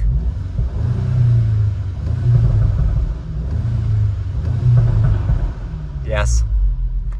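A revving car engine drones close by in rhythmic pulses with deep low rumble, while people talk over it and a voice rises sharply near the end.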